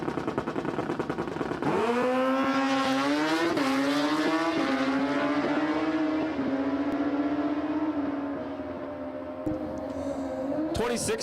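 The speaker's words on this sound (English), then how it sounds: "Actually, both drivers are on Busas." Two Suzuki Hayabusa motorcycles drag racing at a dragstrip, engines screaming loud and close as they rev up through the gears with rising pitch, the run fading slightly toward the end.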